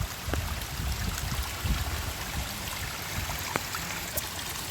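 Heavy monsoon rain runs off in a steady, close stream of flowing water, a continuous rushing trickle with a few soft splashes, and no voices.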